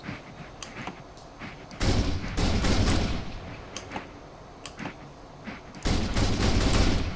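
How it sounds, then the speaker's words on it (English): A gun in the voxel video game Make Something Voxelnauts fires default bullets in two sustained rapid bursts, separated by a stretch of scattered single shots, loud and with no talking. "It's just shooting like the default bullets"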